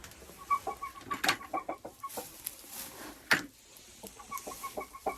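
A rooster in a hen coop gives repeated low clucking calls to the hens, close and fairly quiet, with a sharper squawk partway through.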